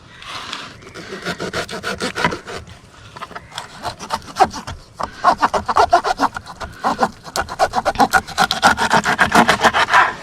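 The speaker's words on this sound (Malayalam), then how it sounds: "നമ്മൾ നമ്മുടെ പാത്രത്തിൻ്റെ അളവിന് മീനെ കട്ട് ചെയ്യുവാണ് കേട്ടോ" A knife works through snakehead fish, cutting it into pieces on a hard surface, giving repeated scraping, rubbing chops in an uneven rhythm that picks up and grows louder toward the end. Close and alone, with no talk.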